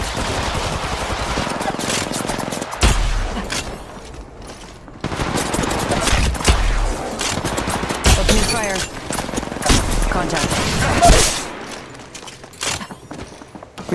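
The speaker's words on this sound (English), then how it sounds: "Contact. Enemy fire." Gunfire in Apex Legends Mobile, with repeated loud automatic bursts and single cracks spread across the fight, plus brief game voice callouts and mechanical clatter between shots.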